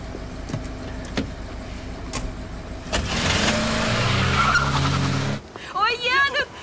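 A car approaches and rolls in with rising engine and tire noise, broad and close, after a few sharp knocks, followed by excited voices.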